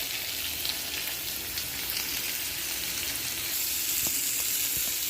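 Pumpkin and potato sautéing in a pan, a dense continuous sizzle with a rain-like hiss and a few faint stirring knocks near the end, close and unbroken, no speech.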